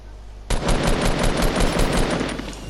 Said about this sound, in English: I'm going to try to run around the back of this one and see if I can get a hunting rifle off on him